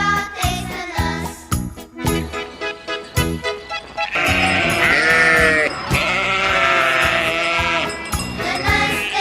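Sheep bleat repeatedly on a farm, loud and close, with tinkling bells joining in, then a sustained bleating chorus over a music bed.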